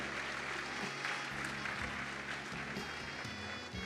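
Steady applause from a church congregation at a Bible school graduation ceremony, a continuous dense wash of clapping that holds throughout.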